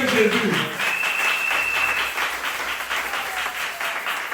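A church congregation at a Tuesday worship service applauds in a steady wash of claps, with a voice speaking over it throughout.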